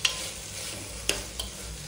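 Onion and tomato masala sizzling steadily in a pan for diet khichdi, with a spoon scraping and knocking against the pan a couple of times over the continuous frying hiss.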